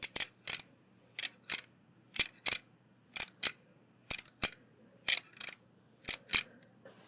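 A hand tool works on lug nuts in a soft mechanic roleplay: paired sharp metallic snips and clicks repeat in a steady rhythm, close and crisp against near silence.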